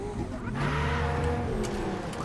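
A car in a Night City video game drives with a steady engine drone and a low humming rumble, loud and continuous, with faint voices under it.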